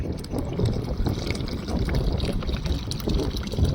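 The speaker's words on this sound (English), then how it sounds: "Pump's picking up this." Water gushing and splashing steadily from a pump fitted with a primer bulb while draining water aboard a boat, close and continuous, with no talking.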